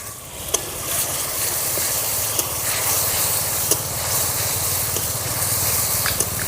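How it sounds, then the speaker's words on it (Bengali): Ground spice paste sizzles steadily as it fries with lightly browned onions in a pan over a clay village stove, a loud continuous hiss with occasional sharp spatters and stirring clicks, no talk. "পেঁয়াজটা হালকা করে ভেজে নিয়েছি এর মধ্যে দিয়ে দেব মশলা"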